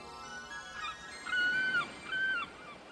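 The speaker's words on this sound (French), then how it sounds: "Les mouettes le savent. Elles sont en alerte." Seagulls call from a short distance in an animated scene, giving a few drawn-out, wailing cries, one after another, fairly faint against a steady background hum.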